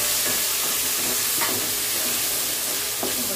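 Potatoes and broad beans fry in hot oil in a pan, giving a loud, steady, close sizzle. Faint stirring scrapes sound underneath, and no one speaks.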